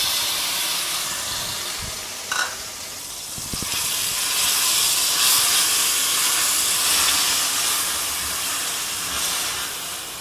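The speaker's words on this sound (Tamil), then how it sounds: "பாருங்கள் நெய் சூடாயிடுச்சு. அடுத்தது நம்ம என்ன பண்ணுறோம், இந்த துருவி வச்சுருக்கோம்ல பெரிய வெங்காயம், அதை சேர்க்குறோம்." Grated large onion goes into hot ghee for a shahi mutter paneer gravy and sizzles in a loud, continuous hiss, with a couple of brief clinks early on.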